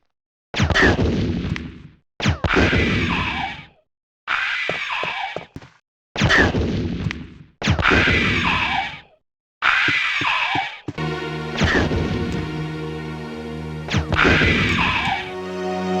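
Heavy gunshots ring out in Resident Evil 1 as special weapon rounds strike hunters, six or seven loud booming blasts in sequence, each decaying, with a sharp metallic impact and game music rising near the end.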